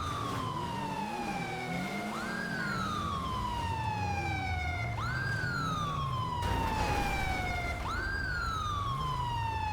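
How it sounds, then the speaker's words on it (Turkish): A police car siren in a roleplay video game wails continuously and loudly. It sweeps up and down in repeating cycles of about three seconds over a low engine rumble, with no talk. "Sireninizi kapatsanız böyle."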